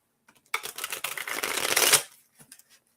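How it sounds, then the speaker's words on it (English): A thick deck of cards given one big riffle shuffle, a dense fluttering burst of rapid card snaps lasting about a second and a half, close and loud, then a few soft taps as the deck is squared. "So I'll give it one more big shuffle."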